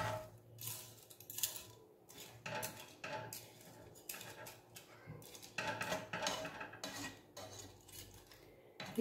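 Spaghetti going into a pan of white sauce, heard as close clinks, scrapes and utensil taps against the pan in irregular bursts, fairly quiet, with no talk.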